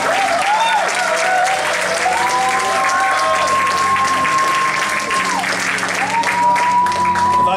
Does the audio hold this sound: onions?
no